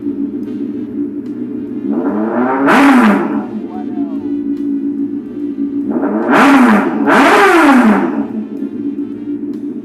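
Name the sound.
Honda CBR600 motorcycle engine revving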